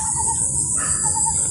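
A bird calls from a tree overhead in a Thai palm plantation, a repeated high chirping phrase that comes and goes against a steady background of insect buzz, no talking.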